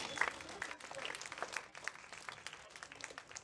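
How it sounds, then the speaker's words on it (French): Faint scattered clapping from an audience applauding a child at a school gathering, uneven bursts of hands that thin out and trail off toward the end. "Les amis, on peut applaudir pour cet enfant."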